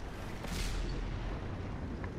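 A deep rumbling blast from a tank video game swells briefly and then rolls into a sustained dull roar, loud and dense, with no clear talk over it.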